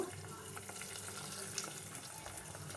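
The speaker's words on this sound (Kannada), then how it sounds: "ಜೊತೆಗೆ ಜಾರ್ಗೂ ಸ್ವಲ್ಪ ನೀರನ್ನ ಹಾಕಿ ಅದನ್ನು ಕೂಡ ಮಿಕ್ಸ್ ಮಾಡ್ಕೊಬೇಕು" Water poured into a blender jar to rinse out ground tomato for rasam, a soft steady trickle in a kitchen.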